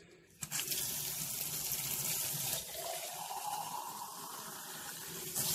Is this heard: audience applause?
no